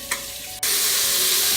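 Onions and mushrooms sauté in an Instant Pot, a steady close sizzle that jumps louder partway through and then holds as a dense, even frying hiss with no voices.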